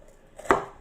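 A knife slices through a white bitter gourd on a cutting board, giving one crisp close chop against the board in a quiet kitchen.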